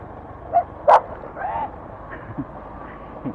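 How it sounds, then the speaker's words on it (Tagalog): A dog gives a few short sharp barks and yips while chasing a motorcycle on a rural road, the barks brief and spaced over low engine and road rumble. "Hinahabol tayo ng aso."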